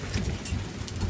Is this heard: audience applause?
no